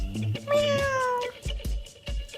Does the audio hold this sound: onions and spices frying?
no